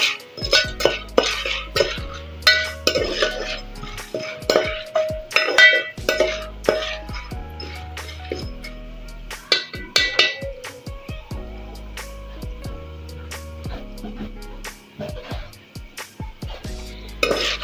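Spatula stirring popcorn kernels in a pot on medium heat, with repeated close metallic scrapes and clinks against the pot in an irregular, steady rhythm and a few sharper knocks throughout.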